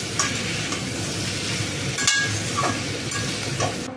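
Spicy crab and potatoes sautéing in a pan, a close, steady sizzle with a spatula scraping and stirring through it and an occasional light clink, no voices.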